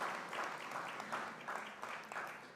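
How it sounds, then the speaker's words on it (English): A crowd applauds steadily at a formal opening ceremony, the clapping soft and somewhat distant, with no talking. "Big round of applause, everyone"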